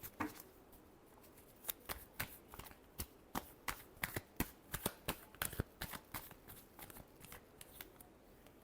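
Tarot cards shuffled by hand in a final shuffle, a run of crisp riffling snaps and flicks, close and fairly quiet, in irregular bursts with short pauses, no voices.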